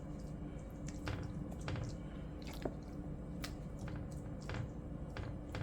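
Cooked pasta is laid out in layers in a sprayed baking pan for baked mac and cheese, giving soft wet squishing and light sticky taps, close up and quiet, with scattered small clicks.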